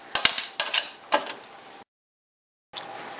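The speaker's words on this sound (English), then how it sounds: "loosen the top of the strut mount bolts with a 12mm socket" A ratchet with a 12mm socket loosens the top strut mount bolts on a Subaru STI, giving close, quick bursts of clicking and metallic ticks that break off into a brief silence before a few more clicks.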